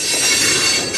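A CN freight train rolls past on a nearby track in Sarnia, Ontario, giving a loud, steady rumble of rolling cars with a bright metallic wheel squeal throughout, and no voices.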